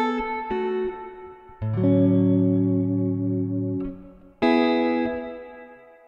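Sustained electric guitar chords played through a Chase Bliss CXM 1978 reverb pedal ring out with a long, washy reverb tail that smears each strum as it decays, played alone.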